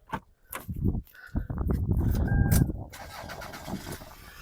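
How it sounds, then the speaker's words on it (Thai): A 2004 Toyota Camry 2.4 engine cranks and catches, settling into a steady running idle with some background clatter and a brief whine. "เดี๋ยวเรามาฟังเสียงเครื่องยนต์แล้วมาดูห้องเครื่องกันนะครับ"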